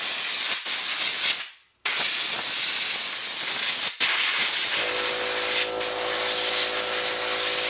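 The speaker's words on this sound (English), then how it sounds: "we're going to blow the dust out of it with my Trusky air hose" A compressed air hose blows dust out of a Panasonic CRT television with a loud, continuous rushing hiss, broken by one brief pause and a few dips, and a faint hum joins in partway through.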